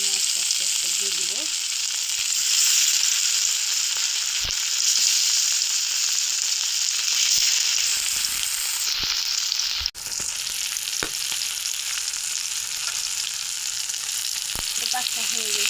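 Fish sizzling and frying in hot oil in a wok, a steady loud crackling hiss throughout with occasional stirring clinks, no talk.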